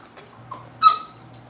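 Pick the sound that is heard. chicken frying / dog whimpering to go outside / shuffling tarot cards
dog whimpering to go outside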